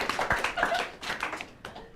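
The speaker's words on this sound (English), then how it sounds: "You can clap." A small audience claps briefly and unevenly, a few scattered close hand claps that thin out quickly, with no one speaking over them.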